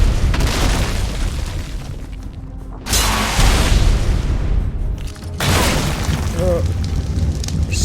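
Rocket launcher blasts strike the Lava Golem in ARK: Survival Evolved's Ragnarok map, with about three loud, heavy booms spread across the stretch, each trailing into a rumbling fiery roar, and a voice talking in between.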